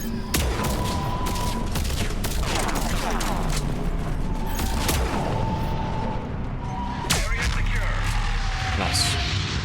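Sniper rifle fire in the video game Mass Effect 3 cracks out as several sharp, loud shots spread across a dense battle bed of booms and mechanical clatter, with occasional tonal beeps.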